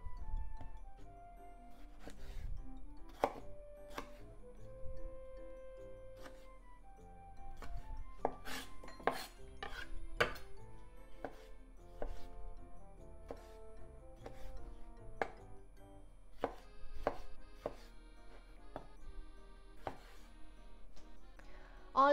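Tomatoes being chopped into bite-size pieces for a tomato tuna salad, a steady run of sharp knife strikes on a cutting board over more than twenty seconds, close and clear with no talking.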